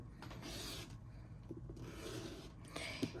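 Rotary or blade trimming of quilting fabric along a quilting ruler, producing quiet, soft rasping cuts in a few short strokes, close and faint with no talking.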